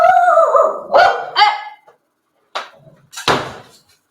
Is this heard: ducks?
no